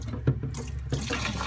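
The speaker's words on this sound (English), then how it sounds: "Then you want to pour a little bit down your drain." Pink RV antifreeze pours down a drain inside a recreational vehicle being winterized, a short close gurgling splash of liquid into the sink with a couple of sharper glugs.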